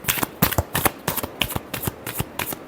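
Tarot cards being shuffled by hand, a quick, rhythmic series of crisp riffling bursts, about ten close, sharp flutters in steady succession.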